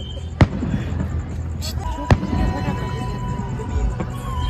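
Firecrackers go off amid wedding preparations: two sharp, loud bangs about two seconds apart, with a fainter pop later, over a busy background of voices and hum.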